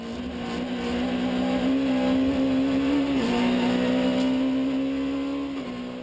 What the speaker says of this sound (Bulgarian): Борис Григоров започна да застига и затваря с обиколка по-бавно движещите се автомобили.